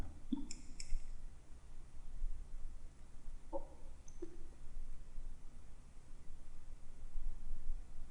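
Computer mouse buttons clicking during drafting work on a computer, a few faint, isolated clicks scattered over steady low background hiss, with no talk.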